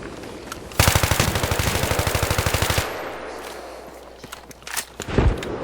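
A machine gun in Battlefield 3 fires a rapid, evenly spaced burst lasting about two seconds, loud and close, followed by a few scattered softer thuds and footsteps.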